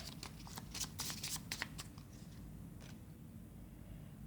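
Tarot-style cards shuffled and drawn during a Hindi love reading: a run of crisp riffling flicks in the first couple of seconds, then quieter card handling over a steady low room hum.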